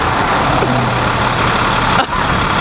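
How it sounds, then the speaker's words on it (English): A huge moving truck's engine rumbles loudly and steadily up close, with a brief dip near the end. "huge truck."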